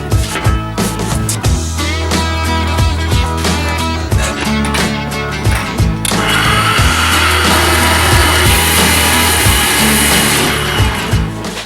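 A power saw grinds loudly and continuously through a stainless steel bar, its harsh whine growing brighter and noisier partway through, with no voices.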